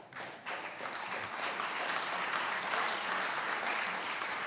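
A legislative chamber audience breaks into sustained applause during the State of the Commonwealth speech in Virginia, a dense roomful of clapping that swells early and holds steady throughout.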